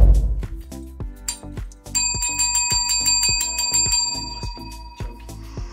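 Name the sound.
hand bell ringing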